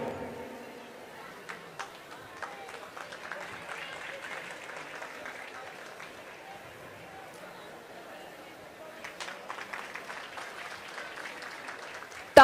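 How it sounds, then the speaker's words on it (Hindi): Applause for the Deputy Chief Minister being honoured at the International Shri Renuka Ji Fair, scattered clapping from a crowd, fairly faint and uneven, with voices talking underneath and a denser burst near the end. "तालियों की गड़गड़ाहट बजती रहनी चाहिए।"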